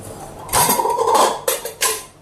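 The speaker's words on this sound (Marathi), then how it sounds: "तर एका फ्लेमवरती मी पटापट कुकर ठेवते" A pressure cooker is set down on a single stove burner in a home kitchen, giving a few loud metallic clanks and scrapes of metal cookware, in short separate bursts with no talking.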